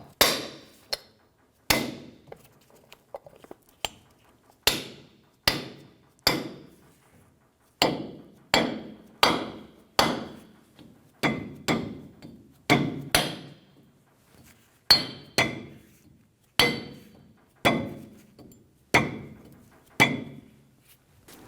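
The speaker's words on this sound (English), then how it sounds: "Install the dust cap, tap it into place." Hammer tapping a wheel dust cap into place on a 2005-2015 Toyota Tacoma, about twenty sharp metallic taps in an irregular rhythm, close and distinct with short gaps between them.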